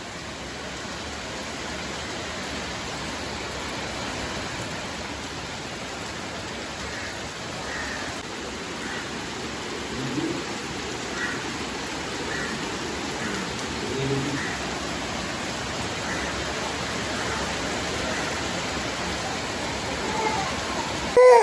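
Heavy rain falls steadily as a dense, even wash of noise for the whole stretch, with faint voices and small sounds now and then underneath.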